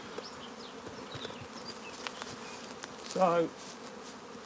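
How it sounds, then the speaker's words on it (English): Honeybees swarm in the air during a nuc transfer, a dense buzzing crowd with one bee droning loudly close by for a moment, and a voice speaks briefly. "the passage of bees is just massive"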